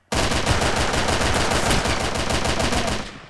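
Heavy sniper gunfire in the video game Arsenal rattles as a sustained, dense, rapid burst of loud shots lasting about three seconds, alone without talk.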